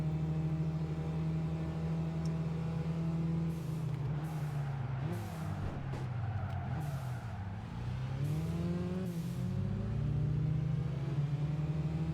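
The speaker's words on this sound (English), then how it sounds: "Oh, that turbo blow-off valve," A car engine in Gran Turismo 5 drones steadily while a turbo blow-off valve releases several short, airy hissing bursts in quick succession midway, loud over the engine note.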